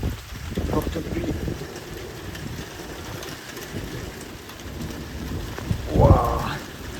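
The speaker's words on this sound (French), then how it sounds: "Forte pluie." Heavy rain pours steadily through a thunderstorm in Corrèze, France, a broad constant wash with a low thunder rumble building near the end; a person exclaims faintly over it.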